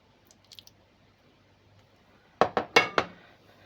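Pieces of chicken fillet laid into a baking dish for French-style potato bake: a quiet stretch with faint clicks, then four quick, close clinking knocks against the dish in a row.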